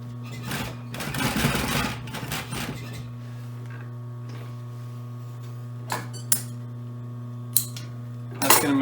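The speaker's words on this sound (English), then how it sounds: "I'm going to sew just right by the edge of my boxing there, or my binding." An electric sewing machine stitches binding onto the edge of boat floor carpet. There is a steady motor hum with a dense burst of stitching early on, then quieter stretches broken by a few sharp clicks and clacks.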